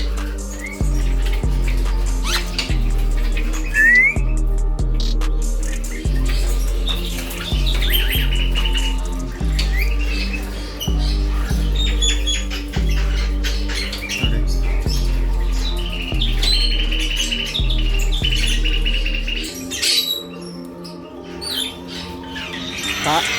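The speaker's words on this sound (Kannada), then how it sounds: "ಇದು ನಮ್ಮ ಮೈನಾ." Mixed bird calls and whistles, including a myna among talking birds, fill a busy pet shop selling birds and aquarium fish, over a steady low rhythmic hum and clatter that drops away near the end.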